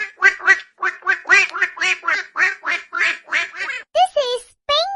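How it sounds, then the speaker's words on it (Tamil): A duck quacks in a rapid series of nasal, harmonic calls, loud and close, ending with a few longer drawn-out quacks. "This is duck, வாத்து."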